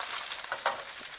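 Fat heats in a frying pan over the stove flame before beef fillets go in. It gives a faint, steady sizzle with a few soft crackles and pops.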